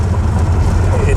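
A lowered 1965–79 Ford F-100 pickup, fitted with DJM replacement radius arms, drives under power with a loud, steady engine and road rumble. A voice talks over it throughout.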